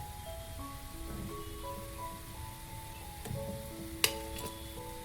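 Goja dough fries in hot oil, making a soft, continuous bubbling sizzle at low volume. Faint tonal hums sit underneath, and a single sharp clink or tap sounds near the end.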